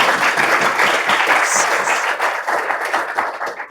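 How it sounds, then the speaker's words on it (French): Steady applause from an audience, a dense wash of many hands clapping at once, holding for a few seconds before starting to thin. "on peut applaudir"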